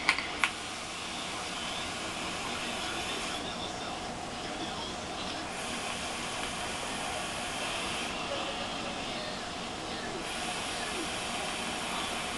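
Vaping on a Crown atomizer by FMP with its airflow control locked: a steady, soft airy hiss runs the whole time, opening with a couple of small clicks and easing slightly in the middle stretch.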